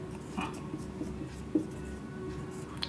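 Steady scratching strokes of writing on a classroom board during a physics lesson, short rhythmic scrapes repeating under a constant low room hum.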